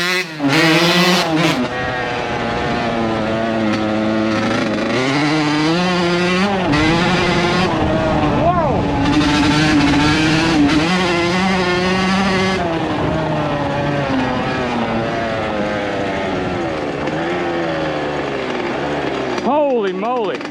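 A 1980s Kawasaki KX80 two-stroke dirt bike, a barn find, runs close by with a loud, raspy buzz. The engine rises and falls in pitch as the throttle is blipped over a steady idle.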